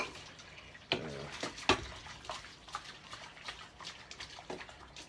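Dishes are washed in a kitchen sink, with water splashing and trickling under scattered clinks and knocks of crockery, two sharper clatters standing out early, all at moderate volume with no talking.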